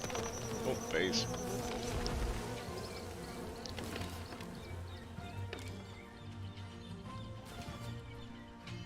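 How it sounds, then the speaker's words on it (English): Bees buzzing in the survival video game Len's Island, a dense insect drone running steadily through the scene alongside game ambience and scattered effects, with no talk. "Oh, bees."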